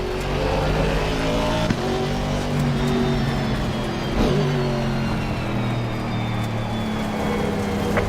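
Race car engine in a racing video game, a continuous loud drone with shifting pitch as it revs and holds speed, steady throughout with no voices.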